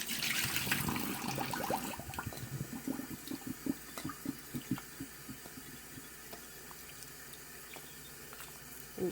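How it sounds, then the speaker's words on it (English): Kitchen tap running steadily while homemade butter is worked by hand under the stream, a continuous splashing rush with small irregular squishes and drips throughout. "you can actually just keep the water running for this part while you work the butter with your hand."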